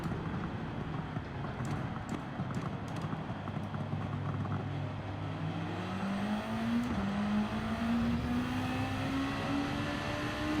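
A race car in Gran Turismo 7 Nations Cup laps under braking and acceleration, its engine note dropping and then climbing steadily through the gears, loud and continuous with a few light clicks early on and no talking.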